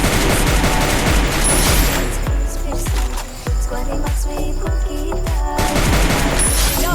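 Free Fire gunfire in a solo versus squad match cracks out as rapid, loud bursts of shots with booming low thumps, a dense volley followed by spaced single blasts, all fairly close.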